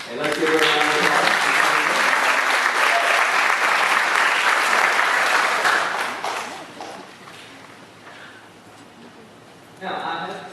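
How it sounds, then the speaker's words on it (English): A crowd at a graduation ceremony for a school for the deaf and blind breaks into loud, sustained applause that fades after about six seconds, followed by scattered clapping and a voice. "And let's give her a round of applause."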